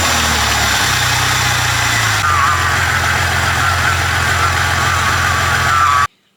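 An engine is started and settles into a loud, steady idle with a deep mechanical drone and rising hum, running continuously close by until it stops abruptly.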